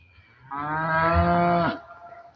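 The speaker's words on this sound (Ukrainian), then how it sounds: "Корови вже просяться додому, бо то вже вечір." A single long, loud cow moo, close by in the evening near pine forest and a pond, lasting over a second before fading into quiet outdoor air.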